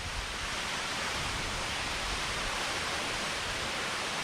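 Waterfall at Fall Creek Falls with its spray driven sideways by strong wind, a steady broad rushing hiss that holds even and unbroken from start to end with no voices.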